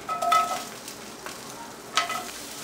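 Onion, carrot and garlic sizzle softly in hot oil in a home kitchen pan as beef stew begins, with a few scraping stirs of a utensil breaking through the steady fry.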